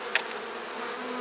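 Bees humming around an open hive during an inspection, a soft continuous buzz of many insects with a brief sharper tap near the start, fairly faint and steady.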